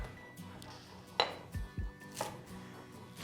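A knife chops a bunch of fresh dill on a cutting board while dry-salted cucumbers are prepared; a few dull, irregular knocks come through over faint kitchen clatter.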